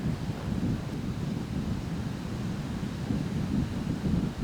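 Wind gusts across an outdoor disc golf course at the Kudzu Cove premier event, a constant low rumbling buffet against the microphone that swells slightly toward the end, with no voices.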